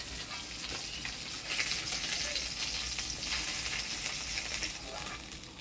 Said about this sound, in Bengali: মাছগুলা ভালোই ফাটছে